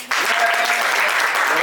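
Audience applause at a stand-up comedy show, a sudden full burst of clapping that starts sharply and holds steady, loud and close with some cheering mixed in.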